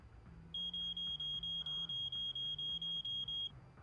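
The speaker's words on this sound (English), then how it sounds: "That's a fire alarm siren." A fire alarm sounds in the video game Zenless Zone Zero, a shrill electronic beep pulsing rapidly and evenly for about three seconds over a faint low background hum.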